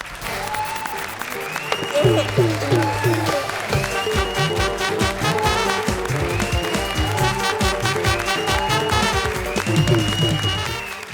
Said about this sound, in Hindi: बजाओ ताली उनके लिए